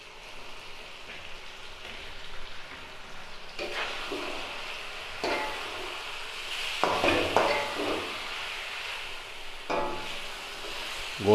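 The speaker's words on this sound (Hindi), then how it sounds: "अब इसमें हम लोग गोश्त शामिल करेंगे।" Meat dropped into cooked tomatoes for chicken karahi, sizzling and frying steadily in ghee, with bursts of louder crackling as pieces hit the pan and get stirred.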